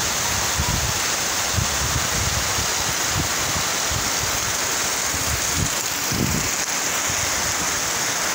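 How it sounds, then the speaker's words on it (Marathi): A torrential downpour hisses and roars without pause, with low thuds of heavy drops splashing on surfaces and water running, loud and close. "आज अतिवृष्टी सांगितलेली आहे, मुसळधार पाऊस पाहू शकता तुम्ही"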